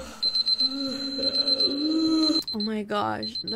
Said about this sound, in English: that's my alarm clock right there,